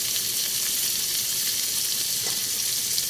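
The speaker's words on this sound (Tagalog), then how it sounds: "Ayan guys, lalagay na natin yung ating onion. Since nangangamoy na po ang butter." Onion sizzling in melted butter in a pan, a loud, continuous frying hiss with faint stirring underneath, steady from start to end with no talk.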